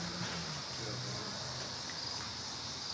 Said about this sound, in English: the bees inside this. Oh, crap. Yeah, they're like swarming me right now.